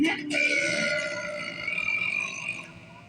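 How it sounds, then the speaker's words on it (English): A long, drawn-out, throaty burp from a scene in a Scorpion King movie where the characters burp in turn, loud and close with a gurgling, grunting quality. "there's a scene where everybody has to burp one by one"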